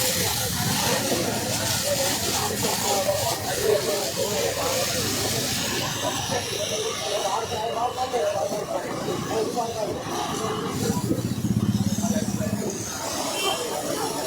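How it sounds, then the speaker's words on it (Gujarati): A fire brigade hose sprays water onto burning garbage beside a private school near Polo Ground in Vadodara, making a loud, steady, close hiss that runs unbroken through the whole stretch, with indistinct voices mixed in underneath. "સતત આપ જુઓ કે પાણીનો મારો ચલાવી રહ્યા છે"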